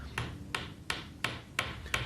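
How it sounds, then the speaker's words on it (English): Six evenly spaced hammer blows drive pre-glued wooden dowels into the joints of a clamped wooden bench, each a sharp, close knock with a short ringing tail. "Whilst the clamp is in place, hammer in the pre-glued dowels."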